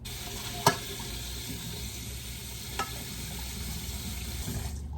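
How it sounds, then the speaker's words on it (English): Tap water runs steadily as a mixing bowl is rinsed in a sink, a soft constant wash of noise with two brief clinks of the bowl against the basin. "I'm gonna give it a quick rinse."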